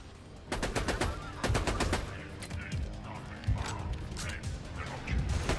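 Rapid automatic gunfire from a weapon in Borderlands 2, loud close bursts of shots with mechanical reloading clicks between them, under occasional talk.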